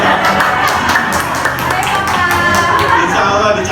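Audience clapping hands together at an Indonesian parenting seminar, a dense, steady patter of many claps lasting several seconds, close and fairly loud.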